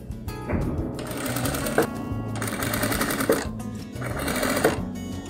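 Sewing machine stitching around the sides of a fabric cushion, its rapid mechanical whir running in three steady bursts close up, with brief pauses between runs.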